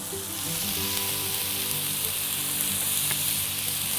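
A Philly cheese steak quesadilla sizzles on a Blackstone griddle, a close, constant crackling fry with a low hum underneath and no voices.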